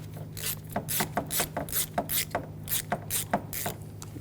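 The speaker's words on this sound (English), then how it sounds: "Now we're going to loosen up the clamp for the intake tube. Use a 7mm socket or a straight blade screwdriver." A socket ratchet clicks in quick, irregular bursts as it loosens the intake tube clamp on a 2011–2018 Volkswagen Jetta 2.0L TDI, close and crisp over a faint steady hum.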